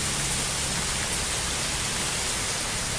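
Heavy rain pours down in a dense, unbroken hiss that stays loud and steady throughout, with no other sounds above it.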